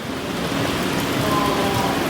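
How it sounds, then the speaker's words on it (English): Rain falls on race day at a 5K running race, a loud, wide wash of steady hiss with a low rumbling undertone, heard briefly and alone. "The rain is falling."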